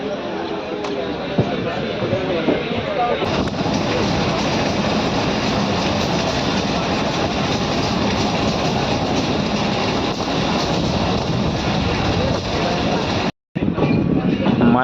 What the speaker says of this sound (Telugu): ఇప్పుడు మన ట్రైన్ లెఫ్ట్ సైడ్ వెళ్తుంది.